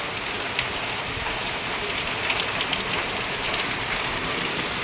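Steady rain pours in Odisha, a dense, even hiss of drops close by with faint scattered patters on surfaces, continuous and alone without any voices.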